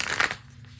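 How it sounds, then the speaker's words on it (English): A brief burst of papery rustling as a Classic Tarot deck is shuffled by hand, close and fairly soft, fading out after a fraction of a second. "We'll go ahead and begin shuffling."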